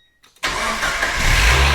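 A Mazda Miata NA/NB engine cranks briefly after a few faint clicks, then catches and fires into a loud, steady idle up close, with no voices over it.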